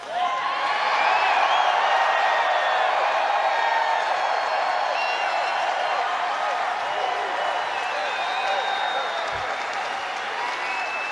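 A packed arena crowd at a political rally in Cedar Rapids, Iowa, roars with sustained applause and cheering, a dense continuous wash of clapping and whoops that fills the space, with a voice faintly heard amid the noise.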